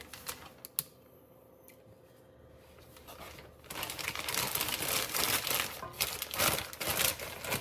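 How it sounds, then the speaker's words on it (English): Plastic freezer bag crinkling and rustling as sugar cookie dough is dropped in, quiet at first, then a loud, busy stretch of close crackling handling that lasts several seconds. "I'm just going to toss mine in a freezer bag."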